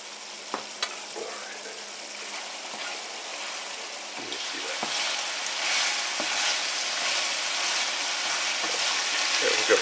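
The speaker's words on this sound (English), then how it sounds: "And just let that simmer, kind of cook down for a minute." Taco meat with spices and fat simmers in a pan, giving a steady soft sizzle and bubbling hiss with occasional stirring clicks, fairly quiet and close.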